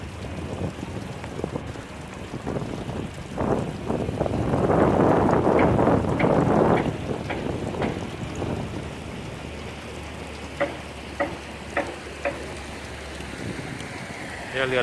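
Steady wash of engine and water noise from a passenger express boat on the Chao Phraya River in Bangkok, with wind buffeting the microphone and a few sharp knocks near the end.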